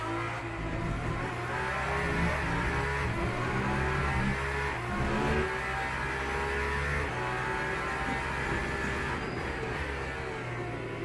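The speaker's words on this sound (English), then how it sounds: "They shouldn't be muffling V12 Aston. Sounds way too good." V12 Aston Martin race car engine roaring steadily at high revs during a lap in Le Mans Ultimate, loud and continuous with gear-shift dips and other cars' engines mixed in, no voices.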